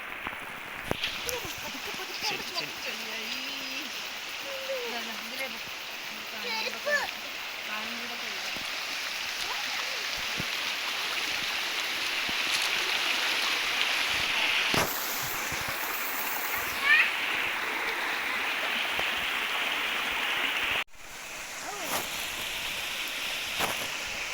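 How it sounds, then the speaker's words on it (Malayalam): A babbling stream flows beside a forest path near Bridal Veil Falls in New Zealand, giving a steady, close rush of water throughout, with brief faint voices in the background. "വെള്ളം നല്ല കളകളാന്ന് പറഞ്ഞിട്ടാണ് ഒഴുകുന്നത്"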